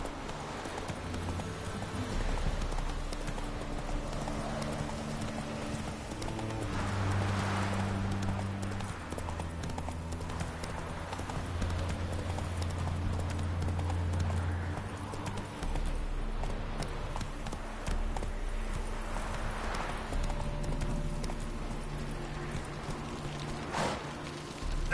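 Horse Roach from The Witcher video game, rhythmic clip-clop of hooves over ground, continuous at a steady gait with faint rain-like patter in the background.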